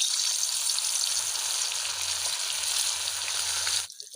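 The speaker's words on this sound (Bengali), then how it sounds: "আমি একটা একটা করে মাছগুলো ভেজে নিচ্ছি" Steady, dense sizzling and crackling of fish frying in hot oil, fairly loud and continuous, cutting off abruptly near the end.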